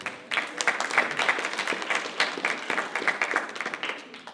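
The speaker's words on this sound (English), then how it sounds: "And then we'll give Danny a round of applause." Community event attendees clap for Danny with a steady round of mixed, medium-loud applause that carries on for a few seconds without speech.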